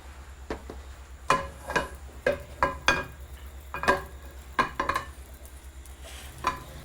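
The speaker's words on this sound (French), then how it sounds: "je vais les faire blanchir dans mon poêle" Fish fillets in butter in a home pan make a faint sizzle under a string of sharp, irregular utensil clicks and scrapes against the pan, close and fairly loud.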